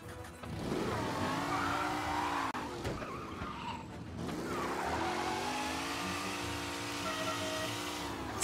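A car in the video game Mafia Definitive Edition drives hard with tires squealing and skidding over a steady, loud engine roar that runs unbroken throughout.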